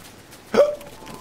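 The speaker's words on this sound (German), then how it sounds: "Aber jetzt habe ich auf einmal Schluck auf." A single sharp hiccup from a character in the Lego Fortnite video game, a brief close yelp that ends in a short tonal squeak over quiet background.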